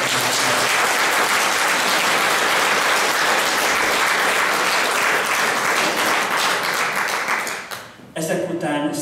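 An audience at a Hungarian choir festival breaks into a big round of applause, loud and dense throughout, then briefly dips before a voice speaks at the very end.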